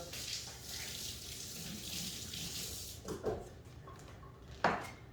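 Tap water runs steadily into a sink while fruit is washed for a Christmas fruit bowl, with a few soft handling knocks near the end and no talking.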